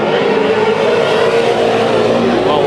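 Race cars roar together during a heat race at Bakersfield Speedway, a loud continuous engine drone with no pauses, close and full throughout.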